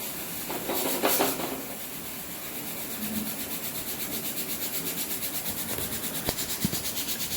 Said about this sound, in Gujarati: મસ્ત એને ધીમમાં આપણે શેકાવા દઈશું